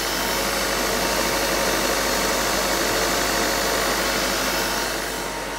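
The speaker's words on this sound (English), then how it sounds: "The engine speed at the moment is around 1500 RPM." Diesel car engine running steadily at around 1500 RPM during a DPF and emissions cleaning service, a loud, even mechanical drone with slight knocking texture, continuous throughout and fading a little at the end.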